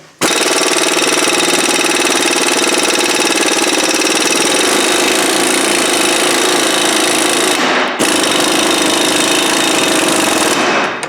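Mac Tools pneumatic air tool fed by a compressor through a 3/8 hose line, hammering loud and continuous with a rapid rattling buzz, a brief break near the end before it resumes.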